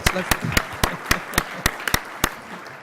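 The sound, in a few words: audience applause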